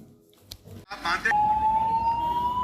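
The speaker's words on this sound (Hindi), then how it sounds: "आप सुन सकते हैं ये सायरन इस समय बज रहे हैं।" A civil defence air-raid siren sounds during a blackout drill in Chittorgarh, Rajasthan. A single steady tone rises slowly over a noisy street background and sits loud and sustained after a brief burst of other noise.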